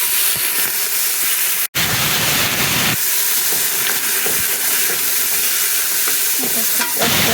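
Minestrone vegetables seasoned with salt and pepper sizzle loudly in a pot, a dense continuous hiss and crackle with occasional stirring scrapes and one brief break in the sound.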